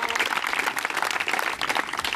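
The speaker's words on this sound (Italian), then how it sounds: "Un applauso perché è stato veramente bravo" An audience applauds during a volleyball setting lesson, a dense, even patter of clapping that runs steadily throughout at moderate loudness.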